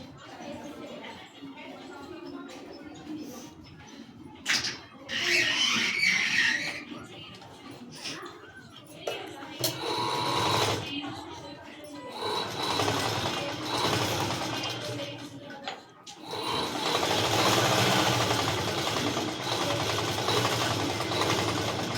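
A sewing machine stitches a patiala pant at a tailoring lesson, running in long stretches of steady mechanical whirring and rattling with brief pauses, while someone talks over it.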